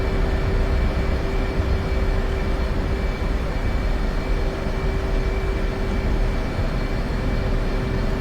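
An F/A-18C jet taxiing in the DCS World flight simulator, heard as a steady, unbroken engine roar with a constant high whine running through it, loud and even throughout.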